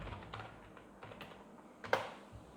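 Fingers tapping out a name on a computer keyboard, a short run of soft, quiet, irregular key clicks with one sharper press near the end.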